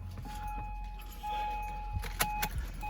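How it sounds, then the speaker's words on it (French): A key goes into the ignition of a 2007 Honda Legend KB1 V6, with a faint jingle of keys, a steady electronic warning tone, and a soft motor whir as the steering wheel moves by itself. "quand on met la clé dans le contact, la voiture, voilà, le volant s'avance tout seul"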